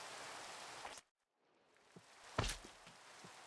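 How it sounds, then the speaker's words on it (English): Rain falling in a Minecraft modpack, Sevtech Ages, as a steady hiss that cuts out for a moment and returns, with a couple of soft patters and thumps; no cicada buzz stands out. "Two very conflicting sounds there, the rain and cicadas."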